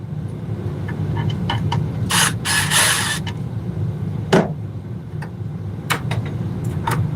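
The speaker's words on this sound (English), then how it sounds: "We're gonna go ahead and put in our bonding screw" A bonding screw is driven into an electrical box, giving short creaking, rasping bursts and a few sharp clicks over a steady low background hum, with no talking.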